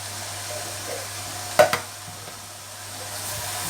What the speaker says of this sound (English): Then you add a tin of, in this case, chopped tomatoes.